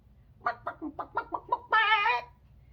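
A voice imitates a mother hen clucking, a run of six short rising clucks followed by a longer, louder cackling call, close and clear with no other talk.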